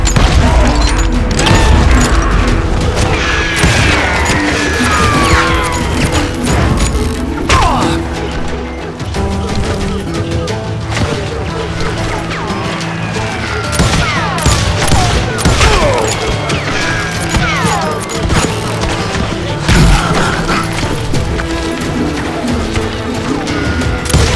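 Rapid gunfire in the Western shooter Call of Juarez: Gunslinger, a loud, continuous barrage of overlapping shots, booms and ricochets, with shouted voices and busy action sounds woven through the fight.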